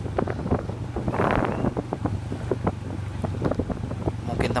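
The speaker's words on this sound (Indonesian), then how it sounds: "Mungkin teman-teman bisa mendengar angin" Gusty wind buffets the microphone in low rumbling bursts, with scattered clicks and faint voices mixed in.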